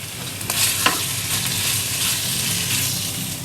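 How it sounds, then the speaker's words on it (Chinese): Pork hits a hot wok already loaded with shiitake mushrooms, giving a steady loud sizzle with a few sharp scrapes and clanks of the spatula as it gets tossed around. "把这个猪肉放下去，炒一炒"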